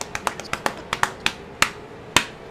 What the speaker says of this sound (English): Paul claps his hands on his tummy